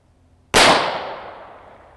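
A single suppressed shot from a Smith & Wesson M&P pistol fired with the slide locked, a sharp sudden crack followed by a decaying tail, close and loud with no speech.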